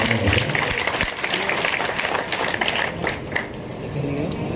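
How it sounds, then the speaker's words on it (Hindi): An assembled crowd applauds in welcome of the housing board chairman, with steady, dense clapping that fills the space, and some voices mix in. "एक बार जोरदार तालियां उनके स्वागत में हो।"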